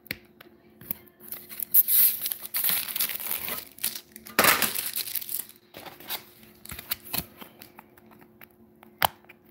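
Protective film peeling off plexiglass sheets: a run of crinkly, crackling rustles with sharp snaps, loudest in a dense burst near the middle, close and alone without talk.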